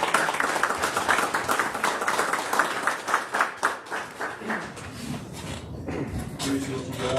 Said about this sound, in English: A round of applause for Chief Freeman.